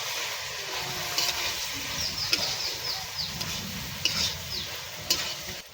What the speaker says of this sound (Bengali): এবার আমি এই সয়াবিন আর আলুটা দিয়ে একটু নেড়ে নেবো